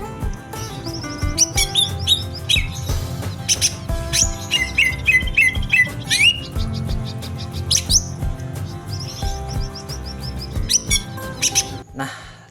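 A green leafbird (cucak ijo) sings loudly and close, pouring out rapid varied chirps, whistles and trills in bursts that run almost without pause.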